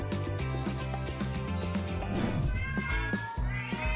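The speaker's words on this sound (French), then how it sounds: "Et eux, c'est mes chats adorés." Pet cats meowing indoors, several drawn-out meows following one another, close and clear over faint background music with no talking.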